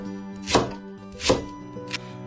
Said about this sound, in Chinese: 把这个大葱切碎，切成碎的葱花。